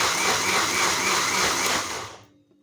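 Electric blender running steadily while pureeing cooked tomatoes for homemade ketchup, a loud continuous whir lasting about two seconds before winding down to silence.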